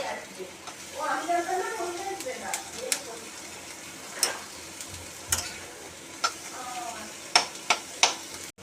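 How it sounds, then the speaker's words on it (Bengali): Chopped onion fries in a cube of butter in a wok, a soft steady sizzle with scattered sharp ticks and clinks of stirring while someone talks over it. "প্রথমে আমি কড়াতে অল্প মাখন দিয়ে, একটা কিউব মাখন দিয়ে পেঁয়াজটা ভাজছি"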